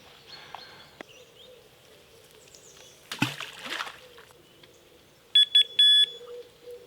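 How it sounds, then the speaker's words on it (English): A Delkim bite alarm for carp fishing at a small pond in England gives a quick run of sharp, loud electronic beeps near the end, after quieter rustling and a splash-like burst. "When I'm fishing with multiple rods, I like to use bite alarms like this Delcom."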